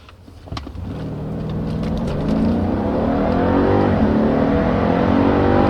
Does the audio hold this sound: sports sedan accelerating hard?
yes